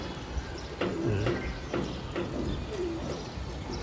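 Pigeons coo softly in low, wobbling repeated calls, with light clicks and shuffling nearby.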